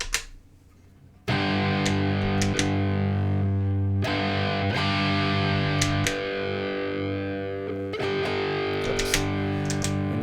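A distorted electric guitar, recorded through a Valeton GP-200 with stereo delay panned left and right, plays chords and picked notes with echoing repeats trailing each note; quiet at the start, then loud and steady throughout.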